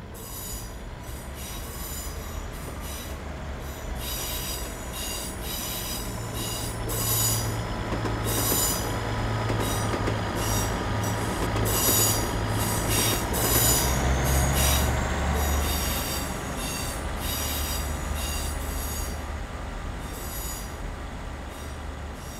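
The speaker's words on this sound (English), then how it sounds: "as you can hear, that there's a new flange noise there, and you can even hear it from inside the cab" A Class 150/1 train in a train simulator game gives off high-pitched wheel flange squeals in repeated bursts. They sound over a continuous rumble of rolling stock, heard from inside the cab.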